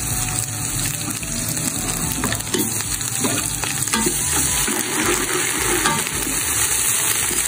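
Onions sizzle and crackle steadily in a hot pan, a dense frying hiss with occasional stirring scrapes, close up and without speech.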